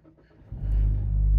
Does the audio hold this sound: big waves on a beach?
no